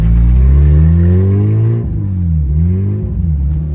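Turbocharged Honda Integra fitted with a Spoon N1 exhaust revs hard and close, its harmonic engine note climbing steadily before dropping and blipping up and down through a couple of shorter throttle stabs.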